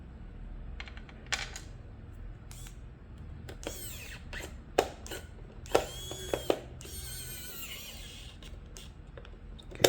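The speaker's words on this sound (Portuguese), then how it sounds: "Vamos parafusar." A screwdriver closes the plastic case of a NEWRUIKE XCRK47 multimeter, giving close, irregular clicks, scrapes and short squeaky twists in separate bursts over a faint background.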